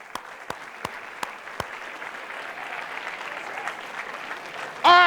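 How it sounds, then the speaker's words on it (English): A live audience claps steadily at a moderate distance, a soft continuous patter of many hands with a few sharper individual claps early on, then a speaker's voice cuts in loudly at the very end. "So let's clap it up for that"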